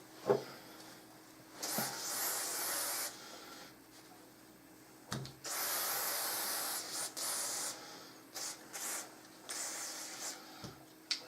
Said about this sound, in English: I'm just going to spray it down with some ram oil and clean it.